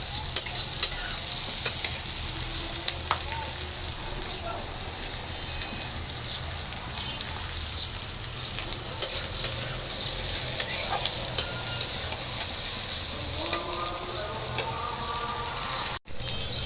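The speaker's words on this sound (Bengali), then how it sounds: "এই যে আমার পেঁয়াজ আর মরিচ ভাজা হয়ে গেছে" Shrimp, onion, garlic and green chili fry in a pan, a steady close sizzle with repeated scraping stirs of a spatula against the metal and occasional clinks.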